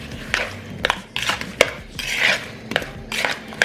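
A spoon clatters and scrapes against a bowl while mixing food pieces with cinnamon and brown sugar, giving a steady run of close, irregular clinks and scrapes with no voices.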